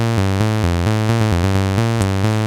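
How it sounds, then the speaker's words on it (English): A sawtooth wave from an SSF Zephyr oscillator is gated by a Steady State Gate module in a modular synth, giving a loud, bright, buzzy tone chopped into quick rhythmic pulses that run alone and without pause. "Well, the Zephyr sounds like this."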